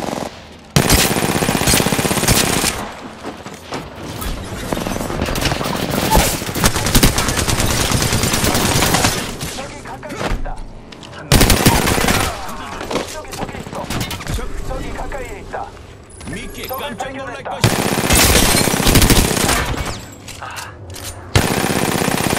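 Automatic weapon fire in an Apex Legends match, long loud bursts of rapid shots broken by brief pauses, close and dense, with a voice speaking at times between the volleys.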